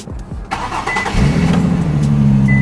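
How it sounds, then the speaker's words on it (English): A turbocharged Mitsubishi Evo 9 engine with twin turbo intakes cranks briefly, catches and roars to life, then settles into a loud, steady idle with a deep rumble. "First startup with my twin turbo intakes"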